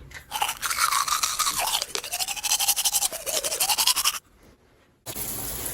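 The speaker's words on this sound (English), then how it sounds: "Before bed, always brush your teeth." Toothbrush bristles scrub teeth in steady rapid strokes for about four seconds, close to the mic, then stop briefly before a softer stretch of brushing or rinsing resumes.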